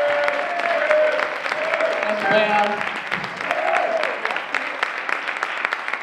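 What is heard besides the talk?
audience applause at a jazz concert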